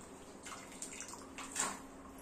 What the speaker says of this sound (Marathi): यातले काढून गार पाण्यात टाकते